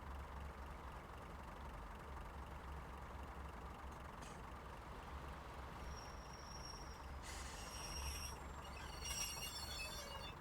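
Class 142 Pacer diesel train in Train Sim Classic on the Huddersfield line slowing to a stop near buffers, a steady low engine rumble with hissing air brake bursts toward the end, no talk.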